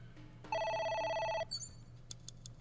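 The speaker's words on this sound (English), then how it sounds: "It's ringing again." A telephone rings in the video game AI: The Somnium Files, one loud electronic ring burst lasting about a second, followed by a few short chimes and faint background hum.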